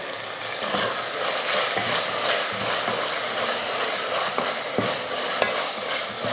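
Chopped onions and a small tomato sauté in a pan for a goat head curry, giving a steady loud sizzle with repeated scraping stirs of a spoon against the pan, no voices.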